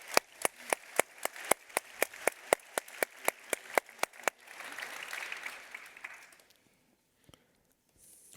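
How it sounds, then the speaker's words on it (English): Lecture audience applauding, starting as a few sharp, evenly spaced close claps and swelling into a brief general round of clapping that fades out, with a faint stray clap near the end. "I think a round of applause is correct"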